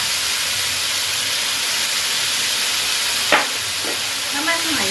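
King oyster mushrooms stir-fried with seasoning powder and sugar in a hot pan, giving a steady loud sizzle and hiss throughout, with a brief scrape of the spatula near the end.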